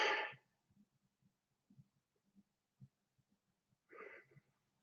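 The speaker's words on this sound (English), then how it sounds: "Just clear my throat." A person clears their throat in two short, harsh bursts about four seconds apart, close to the microphone, with faint low rustles and thumps in the quiet between.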